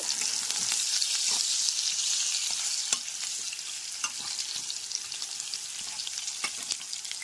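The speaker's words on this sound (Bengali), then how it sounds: "গ্যাসের ফ্লেমটা হাইতে করে আলুগুলো ভালো করে ভেজে নেব" Cut potatoes fry over a high gas flame in a home kitchen, giving a loud, steady hiss with scattered crackles and occasional light clinks of a utensil, close up and with no talking.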